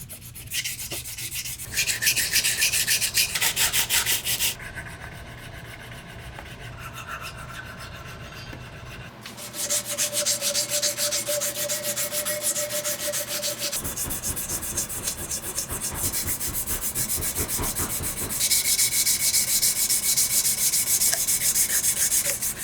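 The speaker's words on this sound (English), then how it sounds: "I'm just putting a nice chamfer around the whole bottom of the nose cap." A file rasps steadily across a brass nose cap, cutting a chamfer around its bottom edge on a Traditions St. Louis Hawken muzzleloading rifle. Close, continuous back-and-forth strokes with no talk, shifting slightly in pitch as the angle changes.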